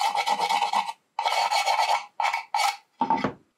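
Scissor blades scraped over painted wood to strip off wax, five rough rasping strokes, the first two long and the rest short, close and clear with no talking.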